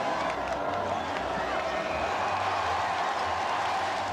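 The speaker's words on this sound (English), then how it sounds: "A kiss, which receives a roar of approval from the crowd" A large crowd of spectators lining the streets near St. Paul's Cathedral at a royal wedding roars steadily in approval, a dense, sustained wash of cheering voices with no breaks.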